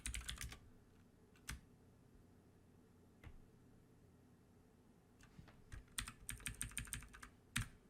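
Keys clatter on a computer keyboard as a password is typed, a few scattered taps early on, then a quick burst of clicks toward the end, close and quiet in a still room.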